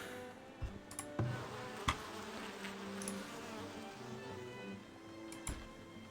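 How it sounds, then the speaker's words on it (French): A bee buzzes softly in the video game Farthest Frontier. The steady, faint drone runs under a quiet game ambience, broken by a few sharp clicks. "L'abeille."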